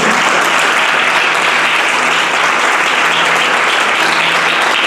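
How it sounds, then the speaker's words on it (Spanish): Loud, sustained applause from a church congregation, dense and steady throughout with no pauses and no voices standing out. "Dale un fuerte aplauso a tu Señor."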